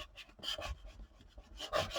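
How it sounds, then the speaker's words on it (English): A tool rubs paper down on a handmade spring mini album, giving soft close rasping strokes in short bursts with brief pauses, quiet and without voices. "I'm going to go ahead and just burnish that down"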